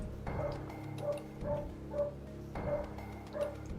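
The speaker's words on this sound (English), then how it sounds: "Oh crap, my dog." A dog barks in a few spaced, fairly close woofs over a steady background of video game sound.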